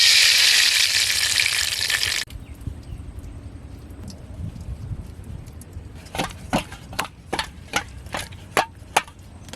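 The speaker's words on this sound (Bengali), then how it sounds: "কড়াই বসিয়ে দিয়েছি, কড়াইতে সয়াবিন তেল দিয়ে দিলাম।" Oil sizzling loudly in a wok of soybean oil with a little salt, where turmeric-coated eggs are being fried; the broad hiss cuts off after two seconds, followed by quieter rustling and a run of sharp clicking taps.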